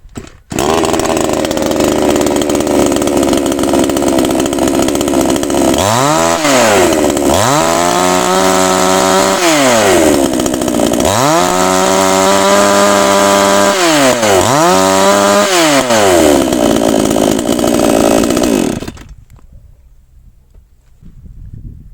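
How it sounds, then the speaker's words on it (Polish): A warmed-up Chinese chainsaw fitted with a new air filter runs loud and close, idling then revving up to a high scream several times in rising and falling sweeps before cutting off near the end. "Więc teraz sobie sprawdźmy, jak ta pilarka e, pracuje z nowym filtrem."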